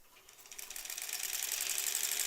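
A sewing machine stitches large quilt fabric pieces together, a steady rapid mechanical whir that starts soft and grows louder and faster over about two seconds, with no talking.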